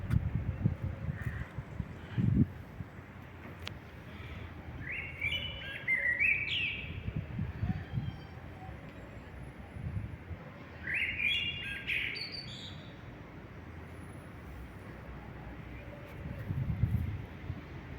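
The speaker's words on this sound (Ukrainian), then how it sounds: "Ну, такі у Кракові пташки співучі." Songbirds sing in Krakow, a single bird repeating clear chirping phrases at moderate distance over wind noise and low outdoor rumble, with pauses between bursts of song.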